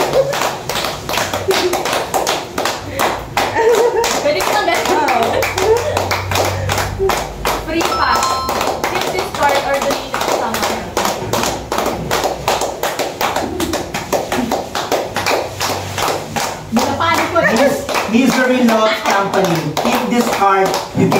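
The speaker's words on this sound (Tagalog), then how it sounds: "Mga palakpak kayo" Group of friends clapping hands in rapid, uneven rhythm during a drinking card game, loud close claps and slaps running throughout while several people chatter and laugh over them.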